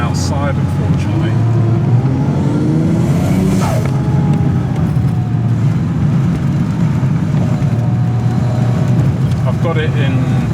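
A Mazda RX8 swapped with a 1JZ-GTE VVTi turbo engine and an automatic gearbox held in second, driving in Pattaya, Thailand: a loud, steady in-cabin engine drone under hard acceleration, with rising whistles sweeping through it.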